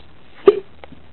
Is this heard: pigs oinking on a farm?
no